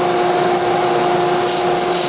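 A wood-turning lathe runs with a vacuum chuck holding a bowl blank cut from a board, giving a steady whine with a pair of sustained tones over broadband rushing noise, loud and continuous throughout.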